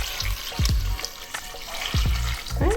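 Water poured from a cup into a stock pot for homemade chicken stock, with splashing, gurgling plops and bubbly sweeps coming in a few separate bursts close by.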